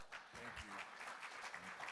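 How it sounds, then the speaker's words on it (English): Broad, steady applause from a crowd at a Juneteenth event, with a voice briefly audible beneath the clapping. "Can we get a round of applause?"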